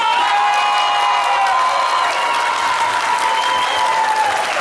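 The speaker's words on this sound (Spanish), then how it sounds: "venga el aplauso" Loud, sustained applause from a large crowd at a bull-riding tournament, with cheering and whistles mixed in throughout.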